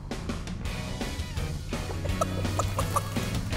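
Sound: chicken clucking in a cartoon

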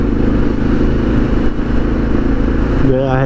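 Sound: Suzuki DR650 motorcycle engine with FMF exhaust, riding

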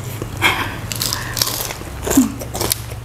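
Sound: biting crunchy crispy fried chicken skin

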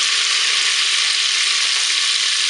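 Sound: vinegar added to hot duck pot, sizzling

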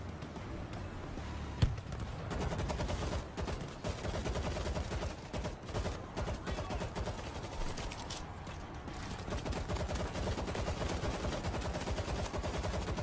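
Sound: mounted turret gunfire in World War Z video game

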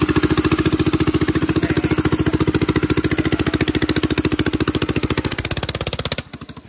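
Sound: drift trike speeding downhill

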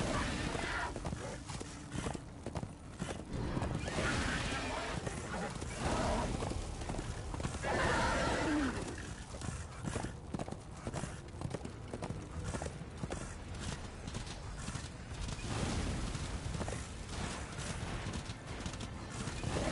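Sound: horse hooves and neighing in Darksiders 2 video game

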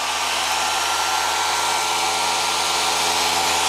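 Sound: cooling fan running on a lab laser build

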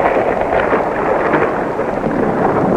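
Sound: thunder from towering thunderheads

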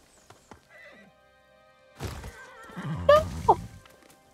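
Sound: horse trotting and neighing in Ghost of Tsushima video game

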